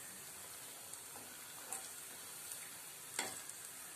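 Rava bonda frying in hot oil on a low flame, with a soft, steady sizzle throughout and a few brief scraping clicks as the balls are turned over.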